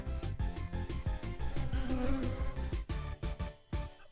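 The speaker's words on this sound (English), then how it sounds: "The bug freely buzzed its way around the room." Game sound of a wasp buzzing around a classroom in a visual novel, a steady insect drone over pulsing background music with regular beats, no voices.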